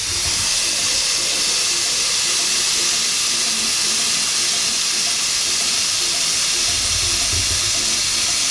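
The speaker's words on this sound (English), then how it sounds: "put a little bit of water on the fire." Water poured onto a hot cooking fire hisses loudly and continuously, a broad steaming sizzle that fills the whole stretch, with a low rumble swelling near the end.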